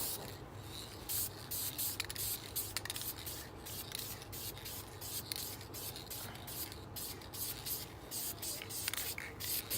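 Spray paint can laying a thin base coat on a 1956 30 hp outboard motor's lower unit, a faint continuous hiss with small fluctuations and brief interruptions throughout.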